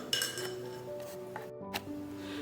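A spoon stirs salt into water in a glass, giving a few light clinks against the glass, quiet and close in an otherwise still room.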